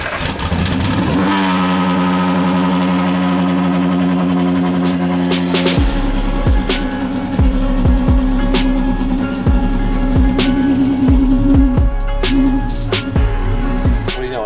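A Ferrari-based drift car engine cranks and catches, idling with a steady hum before roaring into a series of sharp, loud revs and blips, close and dominant throughout.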